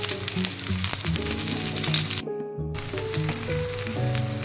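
A bread and potato mixture frying in oil on a tava, a steady close sizzle with soft crackles and occasional clinks.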